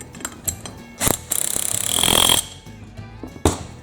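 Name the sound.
tightening a bolt and nut on a Cub Cadet GTX 1054 mower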